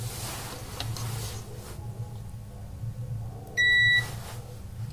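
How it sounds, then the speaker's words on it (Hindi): A digital multimeter set to continuity mode gives a single short, clear electronic beep over a low background hum, during the repair of an LG direct drive top-load washing machine. "मीटर को हम बीप की पोजीशन में रखेंगे।"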